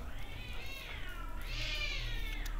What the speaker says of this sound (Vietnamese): Tự nhiên có hai con mèo nó cắn nhau.